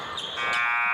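A basketball game-ending buzzer sounds at a sixth-grade school game, a steady loud electronic drone that grows stronger partway through and holds to the end with no voices over it.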